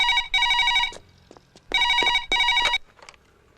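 A telephone rings in a police station scene from a Telugu comedy film: two bursts of bright electronic trilling, a pause, then two more, loud and close with faint background noise between.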